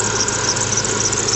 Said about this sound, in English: Besides that belt squeak